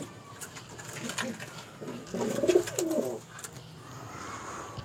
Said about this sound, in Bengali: আমি দেখিয়ে দিচ্ছি, শুধু পায়রাগুলোকে ছেড়ে দিই সব।